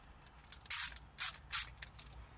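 Three quick bursts of mechanical clicking from a ratchet turning a 16 mm bolt on a harness bar during a racing harness install in a G35, close and alone.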